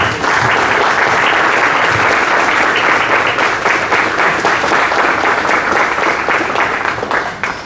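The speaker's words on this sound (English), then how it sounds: "A round of applause for Mr. Samrat." Loud, sustained applause from a large audience at a university executive lecture, steady dense clapping filling the room throughout before tapering slightly at the end.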